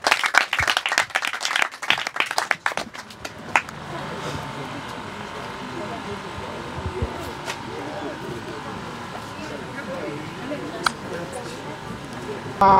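A crowd claps loudly and densely at the Abbi Grammar School 50th anniversary celebration. After about three and a half seconds the clapping fades into a murmuring hall ambience with speech, and a short clap returns at the very end.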